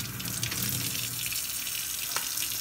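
Water trickles and splashes close by as wetted electrode sponges are gently squeezed, a steady, faucet-like pour of running droplets with no talking.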